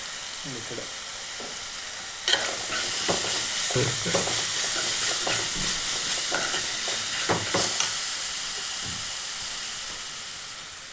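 Curry leaves drop into hot oil and fry in a pan with a sudden loud sizzle, then a steady hiss and crackle while a spoon scrapes and stirs intermittently; no one speaks.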